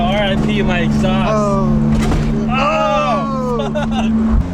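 Loud raspy engine drone with a steady buzzing hum, a car with a broken exhaust driving while voices chatter and shout over it.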